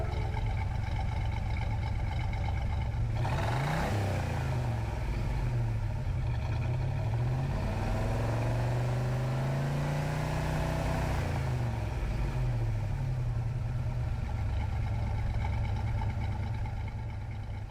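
A 1978 Pontiac Firebird Trans Am V8 in Gran Turismo 7 idles, then revs hard through rising and falling sweeps, a loud, throaty engine alone with no talk.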